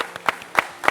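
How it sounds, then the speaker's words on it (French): A handful of sparse, separate claps from a studio audience on a French television show, four or so distinct hand slaps spaced across a brief second rather than a full ovation. "On va applaudir, s'il vous plaît, pour ceux qui sont à Beaunois et qui nous y regardent."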